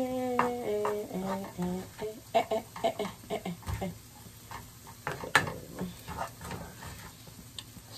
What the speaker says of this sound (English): So I'm gonna stir that.